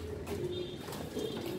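Racing pigeons come in during a training flight along the coast in Batangas, with soft low cooing calls up close amid a constant outdoor hum while a person talks nearby.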